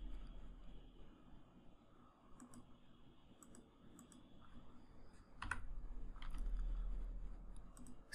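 Keys of a computer keyboard clatter quietly while C code is typed, with scattered soft clicks and taps and a slightly busier, louder stretch of keystrokes near the end.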